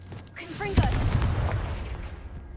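The Confringo blasting spell from Hogwarts Legacy going off as a single close, heavy explosion with a rumbling tail, just after a brief vocal sound.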